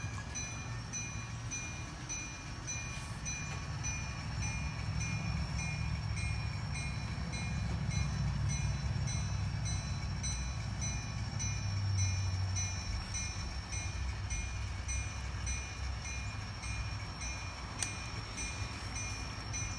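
A locomotive switching railroad cars at the ITT Grinnell and Miller Distribution building in Chillicothe, heard as a continuous low engine rumble with a steady high whine, holding at moderate loudness without talk.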